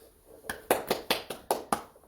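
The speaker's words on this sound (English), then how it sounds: "round of applause" A single person claps during a motorsport round-up: about seven sharp, evenly spaced hand claps, close and fairly loud, with no crowd joining in.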